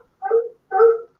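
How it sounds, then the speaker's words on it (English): A dog barks twice, close and loud, with a short pause between the two sharp barks and silence around them. "oh, that's a dog"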